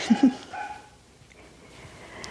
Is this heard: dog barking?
yes